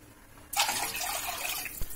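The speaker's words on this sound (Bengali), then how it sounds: "এর মধ্যে আমি আরো 1 বাটি জল দিয়ে দিলাম।" Water splashes from a bowl into a pan while cooking rasgulla, starting abruptly halfway through and continuing as a close, bright pour with a small thud near the end.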